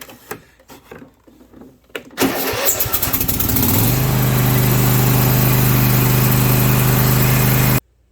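A UTV engine cranks briefly after a few light clicks, then catches and settles into a loud, steady idle that runs for several seconds before cutting off.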